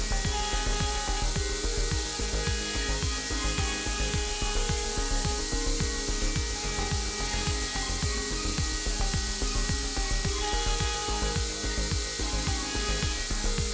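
A Hammer HNC 47.82 CNC portal milling centre cuts a jazz bass guitar neck pocket in a wooden workpiece with an 8 mm finishing cutter, giving a steady, loud whining drone with fast regular rhythmic chatter throughout, no voices.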